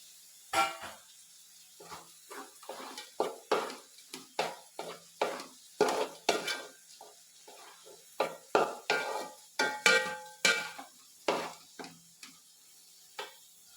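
Chicken is stirred and mixed in a pan with a series of distinct, close spatula knocks and scrapes in an uneven rhythm, with little audible sizzle between strokes.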